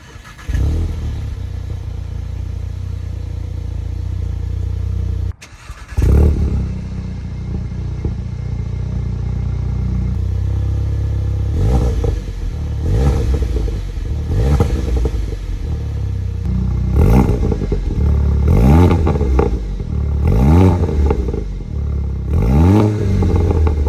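A Mk7 VW GTI fitted with an ARM Motorsports downpipe idles loudly, then blips and revs repeatedly in short rising bursts, the exhaust note swelling and falling with each rev, close and with no talking.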